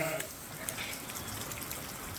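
Snowmelt runoff dripping and trickling steadily off a farm roof, a dense patter much like rain.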